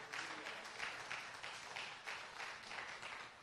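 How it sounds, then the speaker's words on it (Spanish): Congregation applause during a church sermon, a steady wash of clapping with slight rhythmic swells, very faint and distant, with no voices over it. "Dale un aplauso al Señor si lo cree."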